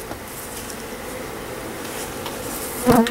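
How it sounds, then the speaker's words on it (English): Honey bees from a newly installed package hum in a dense, steady buzz around a nuc box, with a brief louder swell near the end. "I'm glad I got those nurse bees out of there."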